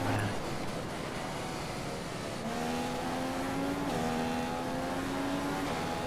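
A Formula 1 race car engine in the F1 2015 video game at the Bahrain Grand Prix, a steady high-pitched whine that climbs in pitch through gear changes and holds as one continuous tone.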